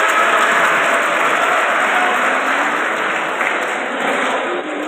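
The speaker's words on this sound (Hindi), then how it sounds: "जोरदार तालियां हो।" A college audience at a career counselling event gives loud, dense, continuous applause that holds steady for several seconds.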